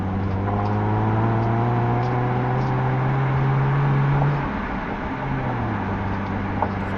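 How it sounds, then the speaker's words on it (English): Stock exhaust on a fourth-generation Acura TL with a six-speed manual, heard from inside while driving: a steady droning engine hum holds a pitch, then drops after a gear change and settles at a lower, even note. "its stock exhaust notes sounds pretty good"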